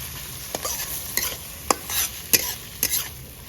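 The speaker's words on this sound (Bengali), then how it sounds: "পেঁয়াজটা দিয়ে দেবো। পেঁয়াজটা একটু লাল লাল করে ভাজি।" Onion frying in a hot pan with chilli for a Mughlai egg paratha, a soft steady sizzle broken by several close, sharp scrapes and clicks of a spatula stirring against the pan.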